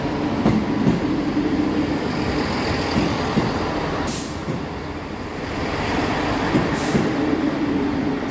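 A scruffy East Midlands Railway Class 158 diesel unit pulls out of Nottingham station, its steady engine rumble and rolling wheel noise continuous and fairly loud, with a couple of brief clanks and a faint hiss.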